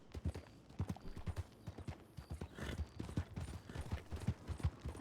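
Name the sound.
horse hooves from video game RedM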